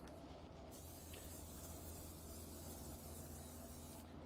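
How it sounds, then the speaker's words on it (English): A steady, loud hiss of olive oil cooking spray misted over sweet potatoes, running continuously at close range with no talking. "a little olive oil spray"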